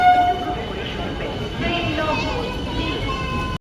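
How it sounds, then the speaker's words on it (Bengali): An AC local electric train pulls into Barasat junction, a steady rumble of wheels and motors with ringing tonal whine throughout, a short horn-like tone near the start, and a continuous busy station din. "এখন আমাদের ট্রেন এসে উপস্থিত হয়ে গেল বারাসাত জংশনে।"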